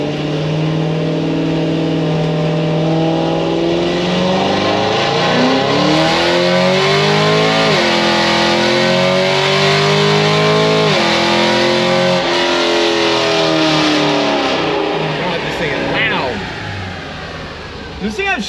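A supercharged Camaro with a Corsa exhaust accelerates hard through the gears, its loud engine note climbing and dropping at each shift before fading, with people talking over the roar.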